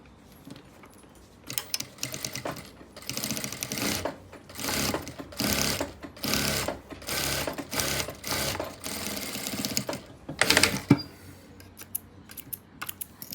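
Sewing machine stitching the piping on a belted blouse with shoulder-to-waist darts, running in repeated bursts of rapid mechanical clatter separated by short pauses, close and fairly loud with no talking.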